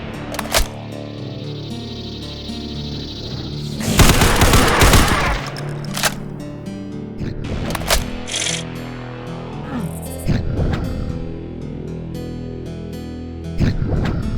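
FN FAL 7.62 battle rifle firing in the video game Ashes 2063, several loud sharp shots and short bursts ringing out over a steady game soundscape.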